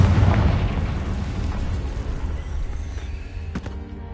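A Confringo fire spell explodes in Hogwarts Legacy with a loud, deep blast right at the start, then a rumbling roar that slowly dies away. A sharper crack sounds near the end.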